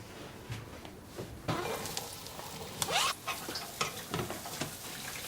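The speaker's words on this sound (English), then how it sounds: "Fry the onions, yep." Onions frying in a pan, an uneven close crackle with irregular bursts of sizzling and scraping as they are stirred, moderately loud and without speech.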